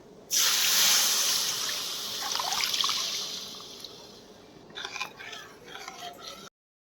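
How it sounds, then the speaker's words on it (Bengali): Milk hits semolina frying in a pan for kalojam sweets with a sudden loud hiss. It fades into a steady bubbling sizzle, with a few soft clinks before it stops abruptly. "এবারে দুধ বাটি দিয়ে দিচ্ছে"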